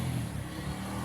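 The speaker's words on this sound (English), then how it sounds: "He's revving his bike for some reason." A motorcycle engine revving nearby, a steady low rumble that holds throughout a very short stretch with no voices.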